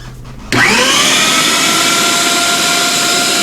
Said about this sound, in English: Handy tip to clean your meat grinder. Run a piece of bread through it.